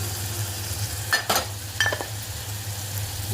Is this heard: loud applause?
no